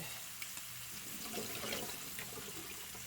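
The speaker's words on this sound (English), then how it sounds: "drain off the water" Water from cooked freeze-dried beef being drained into a kitchen sink, a steady faint rush and splash like running tap water lasting a few seconds, with no talking.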